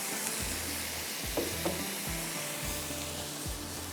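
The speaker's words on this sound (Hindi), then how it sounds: "ज़रा सा इसमें ऑयल डाल देती हूँ, वैसे ड्राई हम भून लेंगे" Minced meat, keema, frying in a little oil in a pan, a steady close hiss and sizzle with occasional stirring scrapes, continuous and with no talk over it.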